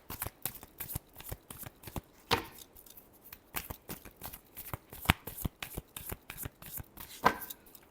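Tarot cards shuffled by hand in a rapid run of crisp riffling bursts, close and fairly loud, continuing steadily with brief pauses and no talking.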